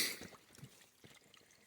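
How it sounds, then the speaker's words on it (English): A hiker's boots slosh and splash through water running along a damp, misty trail, a few soft close steps in quick succession ending with a sharper splash. "Just walking in the water here."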